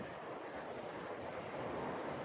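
Gusty wind gusting up to about 45 mph rushes past outdoors in the morning, a steady, faint roar of wind noise without pause and with no voices.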